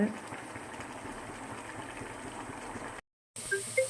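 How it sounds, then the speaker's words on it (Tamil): Chicken curry (kuzhambu) seasoned with turmeric bubbling steadily in a pot, a close, even simmering hiss under a speaking voice, briefly cut off near the end. "இங்கே பாருங்கள் ஃப்ரெண்ட்ஸ் கறி வந்து நல்லா வெந்துட்டுருக்கு"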